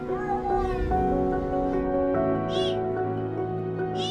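A mother cat meows repeatedly for her kitten trapped underground, several drawn-out, wavering cries following one another at close range, with faint background noise in between.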